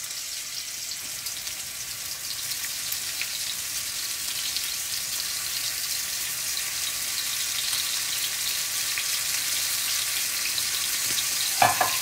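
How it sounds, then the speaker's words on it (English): Steady, dense sizzling of lamb chops searing in a hot pan, continuous and fairly loud throughout, with a brief clatter near the end. "That's the sizzle I was looking for."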